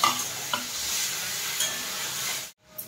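Steady sizzling of chopped tomatoes and green chillies frying in a pan, with a few light scrapes of a utensil, before the sound briefly drops out near the end.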